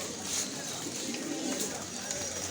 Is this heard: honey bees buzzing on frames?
no